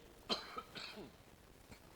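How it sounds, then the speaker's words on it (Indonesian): A single quiet cough, followed by a soft throat sound and faint murmuring in a quiet room. "itu batuk, Bu."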